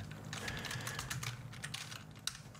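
Computer keyboard typing during C++ game programming, a steady run of quick close key clicks with a few louder strikes, no voices.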